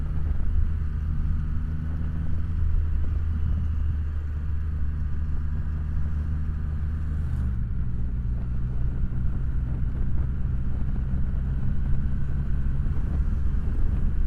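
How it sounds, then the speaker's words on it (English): A 2025 Triumph Rocket 3 GT Evel Knievel Edition, a heavy motorcycle, drones with a steady low engine rumble as it rides and accelerates. Its pitch shifts partway through, and wind buffets the microphone throughout. "So it's definitely a heavy bike. Picks up speed real nice."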